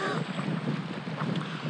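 Strong wind buffets the microphone outdoors on a cold day of bass fishing from a boat, a steady loud roar with gusts throughout and no talk.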